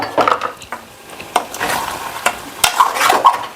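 Country chicken curry with pepper cooks in a pan, stirred with a utensil that scrapes and knocks against the metal over a continuous close frying sizzle.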